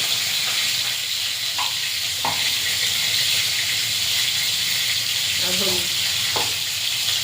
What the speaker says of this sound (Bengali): এবারে কেটে রাখা আলুগুলো দিয়ে ভেজে নেব